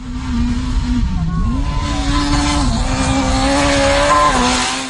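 A Peugeot 206 WRC rally car on a gravel stage at Rallye Terre de Langres revs hard and close, its engine note rising and dipping through shifts, as a commentator talks over it.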